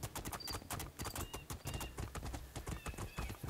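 Horse hooves clip-clop at a steady gallop in the fantasy video game Two Worlds 2, with a brief neigh and faint jingling over the continuous, fairly close hoofbeats.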